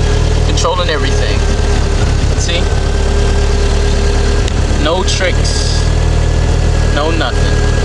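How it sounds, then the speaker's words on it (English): A stock car engine on its factory ECU idles steadily with a slight misfire from worn spark plugs, a continuous low rumble throughout while people talk over it. "I got a slight miss, but I already know I had to change my spark plugs"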